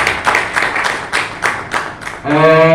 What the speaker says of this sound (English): We should clap for the FSPs.